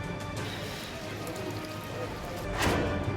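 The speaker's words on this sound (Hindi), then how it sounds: "आसमान से बरस रही आफत की बारिश।" Unseasonal downpour falling over farmland, a dense continuous patter and hiss of rain with a sharper gust of drops near the end, no voices.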